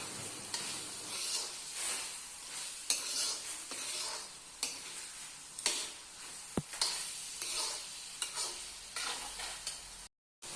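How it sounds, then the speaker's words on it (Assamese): Onions fry in oil with swan meat, a continuous sizzle under repeated scraping stirs of a spatula against the pan, with a sharp clink partway through; fairly quiet and close. "এতিয়া দি দিছে পিঁয়াজ। এয়া দেখিছেনে পিঁয়াজখিনি দিয়াৰ পিছত অলপ দেৰি এনেকৈ ভাজি থাকিব।"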